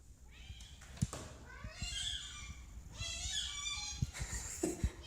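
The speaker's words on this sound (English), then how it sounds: "This cat sounds exactly like a squeaky toy." Cat giving high, squeaky meows that sound like a squeeze toy, several short cries in a row, close and fairly loud, with no talking.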